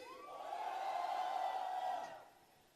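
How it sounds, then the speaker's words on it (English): A crowd gives a single sustained cheer, a steady wordless roar of voices that swells, holds for about two seconds and then fades, heard fairly faint and at a distance. "Guys, cheer! Come on!"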